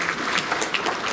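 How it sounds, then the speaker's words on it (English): Audience applause at a political rally in Meghalaya, a steady broadband wash of clapping with no pauses across about a second, no voices standing out. "A big thanks and a round of applause to the state committee"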